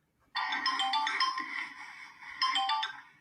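A phone ringtone, the same tone shared by two people, plays loud and alone as a bright repeating electronic melody of quick notes, with a second burst of the phrase near the end.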